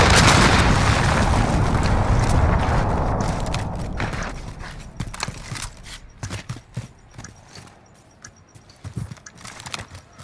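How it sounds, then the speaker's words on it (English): A cruise missile explosion in Call of Duty, a heavy loud boom that rumbles and slowly fades over several seconds, followed by scattered gunfire and debris crackles. "Enemy cruise missile."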